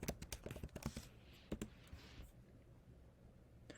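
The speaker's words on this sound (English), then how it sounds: "I'm going to type in my hometown of Alpharetta." Typing on a computer keyboard, a quick run of close, crisp key clicks that bunch into bursts and then stop, leaving quiet room noise.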